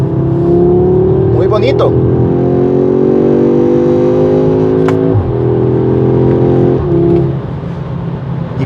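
An Audi S3 Sportback hot hatch engine revs and drops through a couple of gears on downshifts, loud throaty surges from inside the car with pitch sweeps and brief blips, while someone speaks over it.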